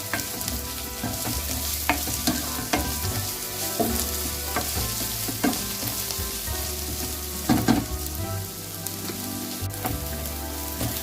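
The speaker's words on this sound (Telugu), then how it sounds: "అల్లం వెల్లుల్లిపాయతో సహా ఉల్లిపాయలు చక్కగా వేగిపోయాయి, బంగారం రంగులో వచ్చినాయి" Onions with ginger-garlic paste fry in a pan for a snail curry, a continuous close sizzle with frequent spatula scrapes and knocks against the pan throughout, no talking.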